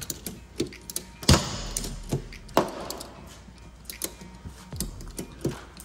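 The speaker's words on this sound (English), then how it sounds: "attaching a ratchet strap to the upper collision tab. Now I'm pulling out the edge." A ratchet strap hooked to a collision tab pulls out the edge of a damaged car quarter panel in a repair shop, with sharp separate ratcheting clicks and metallic clunks at irregular intervals, fairly quiet and close.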